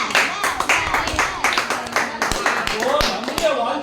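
A church congregation claps hands loudly in a rapid, uneven burst of sharp claps, mixed with voices speaking and calling out over the clapping.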